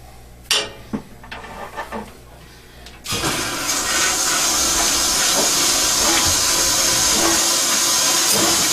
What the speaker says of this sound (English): we're going to go ahead and perform the flushing that will help to get rid of all that built up sediment at the bottom